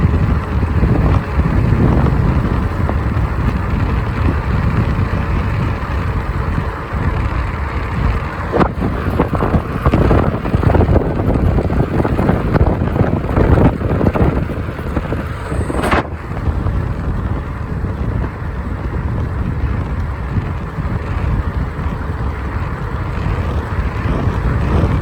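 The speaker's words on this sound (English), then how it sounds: "Still is windy, but not like it was that day." Strong wind buffets the microphone while riding an Ecotric fat tire ebike on a windy day, producing a constant loud roar and rumble throughout, with no one speaking.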